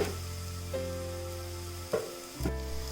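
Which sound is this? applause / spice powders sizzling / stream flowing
spice powders sizzling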